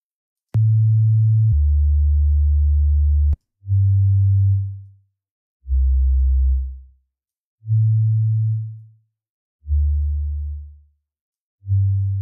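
FM synth tones from the PS Meander plugin in miRack play as a sequence of deep, smooth bass notes, each swelling and fading with short silent gaps between them. The notes are clean and isolated, with no voices.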